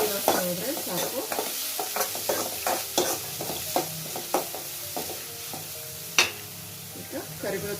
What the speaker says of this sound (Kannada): ಈರುಳ್ಳಿ ಹಾಕ್ತಿದ್ದೀನಿ. ಒಂದು ಈರುಳ್ಳಿನ ಈಗ ಅದನ್ನೊಂದು ಸ್ವಲ್ಪ ಫ್ರೈ ಮಾಡ್ಕೊಳ್ಳೋಣ